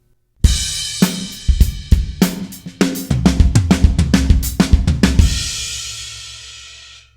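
A linear drum fill worked into a full drum beat at a steady 100 BPM, with dense kick, snare and tom hits in quick succession before a crash rings out and fades, played alone without talk.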